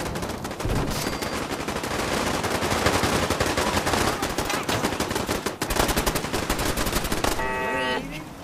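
Sustained automatic gunfire in Fallout 4 survival mode as allies fight a legendary Deathclaw, loud dense bursts of machine-gun fire running for several seconds, a brief gap, then more shots before a tonal game sound closes it.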